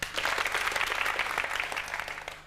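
A studio audience breaks into brisk applause at a comedy show, loud and sustained with sharp individual claps, tapering off at the end, with no talking.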